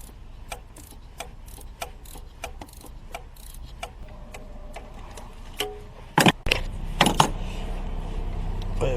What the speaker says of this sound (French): j'ai pris une clé à cliquer